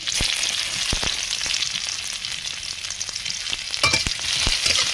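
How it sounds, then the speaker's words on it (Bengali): Loud, constant crackling sizzle of chopped onions and garlic frying in hot oil, with occasional scraping knocks of stirring throughout. "পেঁয়াজটাকে আমি লাল লাল করে একটু ভেজে নেব"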